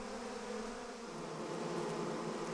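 A dense, continuous buzzing of many African bees, steady and fairly close, with no voices.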